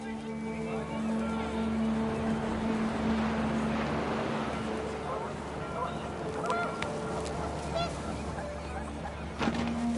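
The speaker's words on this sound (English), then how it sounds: "panicked geese appeared and quickly went" Panicked geese honk in a noisy, overlapping flock over a steady low rumble of wind in What Remains of Edith Finch, with repeated calls throughout and a louder burst near the end.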